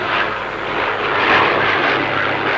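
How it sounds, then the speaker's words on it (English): Propeller airplane engine droning steadily at moderate distance, a continuous rough hum that swells slightly midway, with no voices. "Tintin heard a motor. It was a plane."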